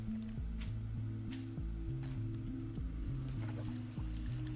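Repeated squelching, sloshing steps of a character wading through water in 7 Days to Die, a steady rhythmic splash pattern at close range with no talking.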